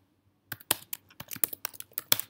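Someone types on a computer keyboard, a quick irregular run of crisp key clicks, close and alone after a brief silence.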